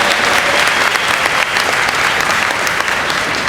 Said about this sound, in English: yes, smattering of applause